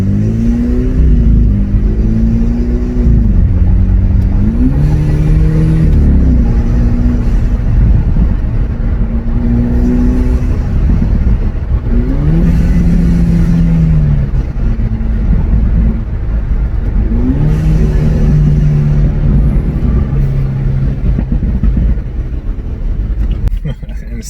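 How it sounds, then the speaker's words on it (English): A BMW with an AWE exhaust pulls in sport mode, its engine note rising in repeated climbs and burbling loudly and close, with a steady rumble between throttle pulls. "Still burbles pretty loud"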